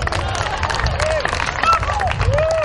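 A golf gallery at the ICTSI Orchard Golf Championship claps and murmurs after a near-holed shot, steady applause with crowd noise and a few cheers, while a voice speaks over it.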